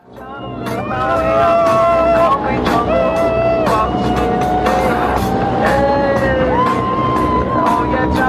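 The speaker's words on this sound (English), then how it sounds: "You can hear the boat in the back" A boat engine hums steadily while cruising near Key West, a loud continuous drone beneath lively crowd chatter and voices that run through the whole stretch.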